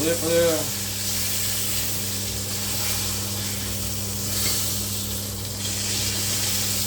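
Chicken breast sizzles steadily in a hot Demeyere Proline pan after being flipped, a continuous frying hiss with a brief clatter at the start.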